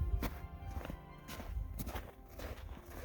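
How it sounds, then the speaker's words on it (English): Footsteps crunching through snow on a Grand Canyon trail near the Bright Angel Trail overlook, a steady series of close, gritty crunches repeating roughly every half second, with no talk. "Crunching snow."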